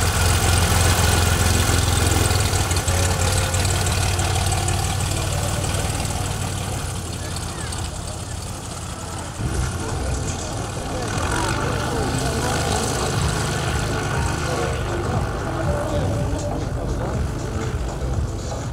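Aircraft engines at a daytime air show in Latvia, where a few planes take off and parachutists jump. A steady, loud propeller drone holds throughout and dips slightly partway through, with broad wind-like noise and voices in the background.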